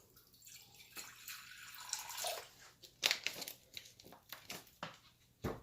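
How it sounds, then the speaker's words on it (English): Water trickles and splashes into a ball python's water bowl in a snake rack tub in short, uneven pours, close and fairly quiet, with dripping between. "And we'll top off his water bowl."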